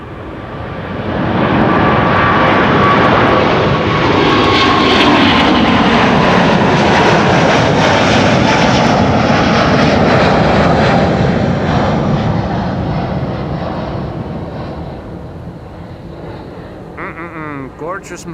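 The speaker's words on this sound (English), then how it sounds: "Singapore Airlines on its way to Singapore, flight 323." A Singapore Airlines jet takes off from Schiphol's Kaagbaan runway with a loud, sustained engine roar that swells quickly, holds, then tapers away as a voice comes in near the end.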